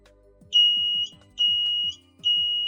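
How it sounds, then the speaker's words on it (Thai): Three loud, shrill electronic alarm tones from an XH50 waterproof tower light, each about half a second long, separated by short gaps. A low buzzing hum runs underneath, and no one speaks. "มันก็จะมีเสียงสัญญาณเป็นแบบนี้ขึ้นมานะครับ"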